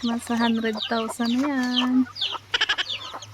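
Newly hatched chicks on a farm give a quick cluster of high, thin peeps near the end, after someone speaks over a low background hum.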